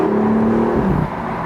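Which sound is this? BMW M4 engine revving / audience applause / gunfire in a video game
BMW M4 engine revving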